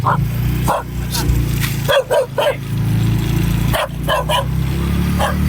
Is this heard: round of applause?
no